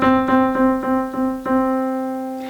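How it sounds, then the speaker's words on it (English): Middle C played on a piano, struck repeatedly about six times in a steady rhythm, then left to ring and fade, clear and close with no talk. "That note is called middle C for obvious reasons."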